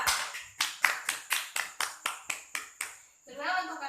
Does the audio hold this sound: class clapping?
yes